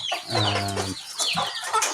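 Country chickens cluck close by, one drawn-out call followed by several shorter clucks from a flock of about sixty.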